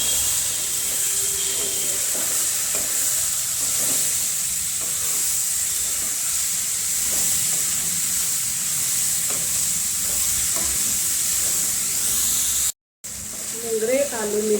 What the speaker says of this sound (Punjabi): ਮਸਾਲੇ ਦੇ ਵਿੱਚ ਹੁਣ ਆਪਾਂ ਮੂੰਗਰੇ ਆਲੂ ਮਟਰਾਂ ਨੂੰ ਪਾ ਦੇਵਾਂਗੇ ਮਿਕਸ ਕਰ ਦੇਵਾਂਗੇ